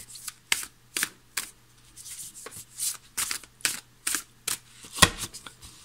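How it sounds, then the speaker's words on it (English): Tarot cards being shuffled during a daily reading, a series of short crisp riffling bursts repeating at an uneven pace with brief pauses between, close up and without talk. "Shuffle, shuffle, shuffle."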